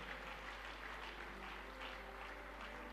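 A church congregation claps steadily throughout, a dense continuous patter of many hands at moderate level with no pauses.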